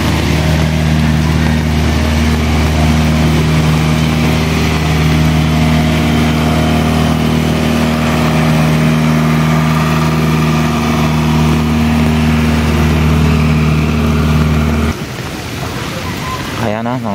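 A Mitsubishi L300 FB Deluxe van sits in floodwater on Aguinaldo Highway in Bacoor. Its engine gives a loud, steady, close idling drone with a deep hum, then cuts off abruptly near the end.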